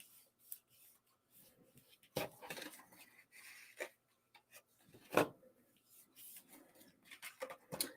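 Paper snips trim the edge of a handmade fold card, giving scattered short crisp cuts and rustles of paper at close range, with a few sharper snips and quiet handling noises between them.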